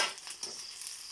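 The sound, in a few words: June beetles frying in oil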